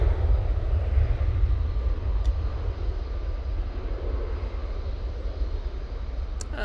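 A Boeing 737-800 on its takeoff roll at Manchester Airport gives off a steady, deep engine rumble at some distance, continuous with no voices.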